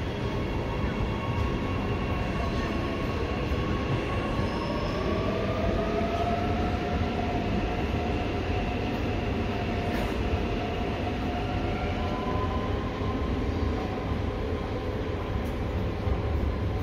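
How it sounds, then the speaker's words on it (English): A Ferny Grove commuter train runs steadily for the whole stretch, a continuous loud rumble of wheels and motors with a drawn-out, wavering tonal whine rising over it and no talk. "Ferny Grove train."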